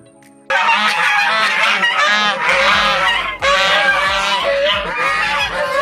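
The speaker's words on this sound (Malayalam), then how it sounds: "വാത്ത കിടക്കുന്നുണ്ടോ? എന്നെ കണ്ടപ്പോഴത്തേക്ക് അറഞ്ചം പുറഞ്ചം വിളിക്കുകയാണ്." A flock of geese at a resort in Vithura, Kerala, honking loudly and repeatedly close by, overlapping nasal calls in a continuous raucous chorus after a quiet first half second.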